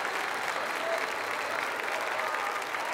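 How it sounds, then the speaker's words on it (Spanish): A live concert audience applauds after a ballad duet, a thick, even roar of many clapping hands sustained at full strength without a break. "Demasiada como para tan poco aplauso"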